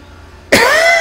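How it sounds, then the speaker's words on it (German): A single sharp, harsh cough bursts out abruptly after a moment of quiet, close and loud, from a man with a scratchy throat. "Der schlimmen Husten."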